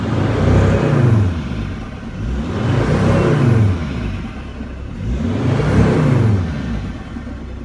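A Mercedes Sprinter diesel engine, its turbo underboost code just cleared, revs three times in a row, each rise climbing to a loud whirring peak and falling back to idle, close and unaccompanied.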